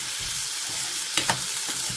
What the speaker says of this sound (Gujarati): તો જો આવી રીતે ફણસીનું શાક આવી રીતે વઘારાય છે